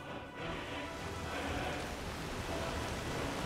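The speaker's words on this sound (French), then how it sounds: "Oh, le son de la pluie par contre." Steady rainfall in the video game Skyrim patters continuously as a dense wash of noise, moderately loud, with no voices over it.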